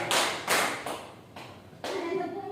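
A group in a school session claps along in a counting clap game, giving several separate bursts of claps with short gaps between them, and a voice speaks near the end.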